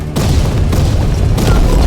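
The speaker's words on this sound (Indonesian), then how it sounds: "dengan bom asap yang dilemparkan oleh Kagiribi" A smoke bomb bursts in an action film scene, a loud dull boom that fills the clip with dense, sustained rumble and a couple of sharper thuds layered through it, no speech.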